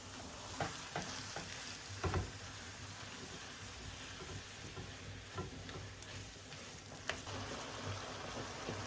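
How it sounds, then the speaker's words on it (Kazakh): Steady sizzling of minced meat and onions frying in a pan, with occasional sharper stirring scrapes and pops throughout. "фаршымызды жақсылап луғымызбен бірге, жуамызбен бірге қуырып алдық"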